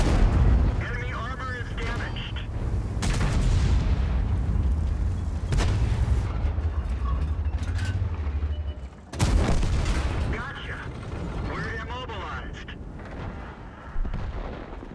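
Booming artillery fire and explosions from a tank video game, several heavy blasts over continuous rumbling battle noise, with a voice talking faintly underneath.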